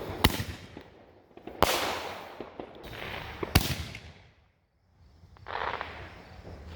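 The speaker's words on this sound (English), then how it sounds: "those are pretty good for little mini artillery shells" Mini artillery shell fireworks go off in a backyard, each launch followed by a loud crack and a crackling burst, four big reports in a row with a fizzing tail, heard from nearby.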